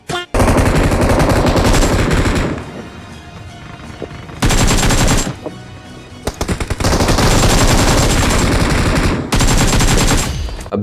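Loud, close automatic gunfire from the BGMI battle royale mobile game comes in long sustained bursts with short gaps between them, punctuated by a few single shots.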